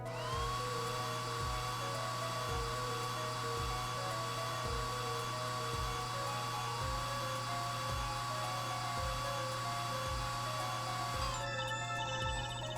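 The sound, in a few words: drying a plaster mold in Apollo Justice video game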